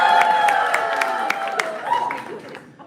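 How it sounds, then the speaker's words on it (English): A comedy show crowd at a climate fundraiser cheers and claps in a steady, fairly loud wash of voices and applause that fades away near the end. "Give me a cheer if you got a message from me in the last 3 weeks."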